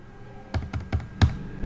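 Computer keyboard keys struck while working in an Excel spreadsheet, four distinct close taps in an uneven rhythm, the last one heavier like the Enter key, with a quiet room behind.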